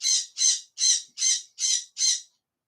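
Pet birds squawk six times in a steady, evenly spaced series, each call loud, harsh and close, with no talking over them.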